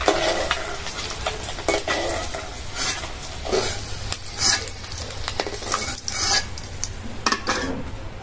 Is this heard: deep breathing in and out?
no